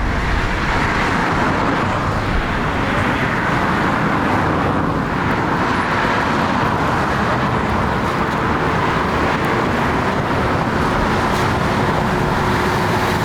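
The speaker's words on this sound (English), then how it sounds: "Same as these cars are driving right here." Several cars cruise past close by on a city street, a steady broad road roar and hum of traffic with no clear gaps, continuing without talk throughout.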